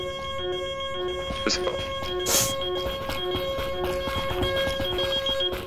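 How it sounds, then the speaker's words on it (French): Repeating electronic alarm tone from the video game Lockdown Protocol, steady beeping pattern running throughout at moderate level, with people talking over it and a brief noise burst midway. "C'est où l'alarme? C'est où?"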